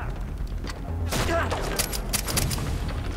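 Gunfire in the video game Far Cry 3, a burst of sharp loud shots and booms in quick succession, with a voice talking over the game sounds.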